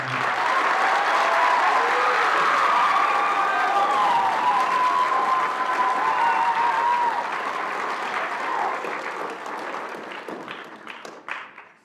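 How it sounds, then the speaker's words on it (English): A school band concert audience applauds loudly and steadily for several seconds, with whoops and cheers rising over it. The clapping thins and fades toward the end, leaving a few scattered claps. "So a little round of applause."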